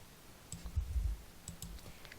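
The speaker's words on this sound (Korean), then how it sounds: "키보드의 탭키를 누르거나 마우스를 클릭하여 다음 항목으로 이동합니다." Computer keyboard keys and a mouse being clicked while filling in an online customer verification form, with a few sharp, separate clicks at close range in a quiet room.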